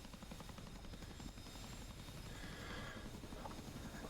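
A CH-47F Chinook helicopter in the DCS World flight simulator drones steadily on the ground as its rear ramp lowers, a faint mechanical whine rising midway beneath the constant rotor hum.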